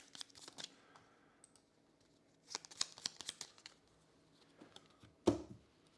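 Board game cards being shuffled at a tabletop, a few quiet riffling and clicking bursts with short pauses, ending in a louder thump as the deck is squared.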